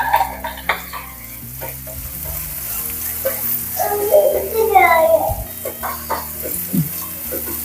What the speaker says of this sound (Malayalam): നമുക്ക് ഹൈ ഫ്ലെയിമിൽ വെച്ചിട്ട് വഴറ്റിയെടുക്കാവുന്നതാണ്